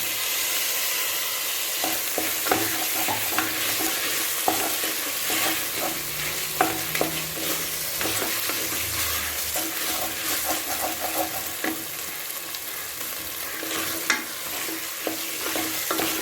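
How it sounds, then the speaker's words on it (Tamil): Tomatoes sautéing in a pan for ghee rice chicken gravy, a steady sizzling fry with repeated scraping stirs throughout, close and fairly loud, no talking. "இப்போ தக்காளியும் போட்டுக்கலாம்."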